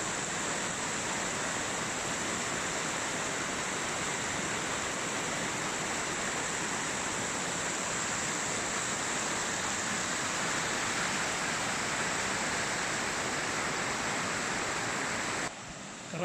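The Cavalese waterfall in the town of Cavalese in northern Italy pours with a steady, dense roar that stays constant throughout, with no voices.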